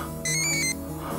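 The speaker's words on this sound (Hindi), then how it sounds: "किसी फोन की आवाज आ रही है।" A mobile phone rings nearby in a park, a short burst of bright electronic ringtone tones lasting about half a second over a steady background of music.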